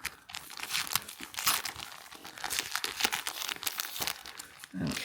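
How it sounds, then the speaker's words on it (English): Crinkling plastic packaging handled up close while unboxing a Christmas advent calendar, a steady stream of sharp crackles and crumples with a few louder tearing bursts, no talk. "Pardon the crinkle."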